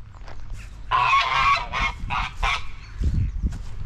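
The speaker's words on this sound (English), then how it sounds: "That is the definition of a duck pond" Waterfowl at a village duck pond give a run of loud, close honking calls in several bursts, then a lower flutter and scuffle near the end, with no voices.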